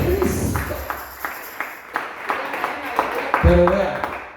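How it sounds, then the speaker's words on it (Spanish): A church congregation clapping together, a loose rhythmic patter of hands at roughly steady beats, moderately loud with room echo, with a voice speaking over it. "Démosle ofrenda de palmas a Jesús el Cristo."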